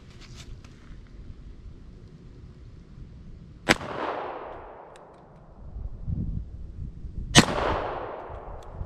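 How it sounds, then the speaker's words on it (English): Two loud, sharp pistol shots from a Bulgarian Makarov firing Norma 95 grain ammunition, about four seconds apart, each ringing into a long decaying echo over light wind noise outdoors. "I'm gonna start off with a double action shot"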